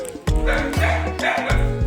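Dog barking in a series of loud, close, tonal barks, about four sharp woofs with a yippy, slightly whining quality, without speech.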